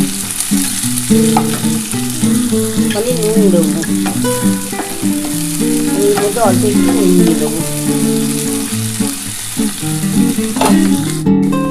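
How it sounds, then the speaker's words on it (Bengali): Sliced onions sizzle and fry loudly in oil in a pan for poppy-seed posto, a steady close crackle with stirring, while someone talks over it. "দেখো বন্ধুরা আমার পেঁয়াজটা কিন্তু ভাজা ভাজা হয়ে এসেছে"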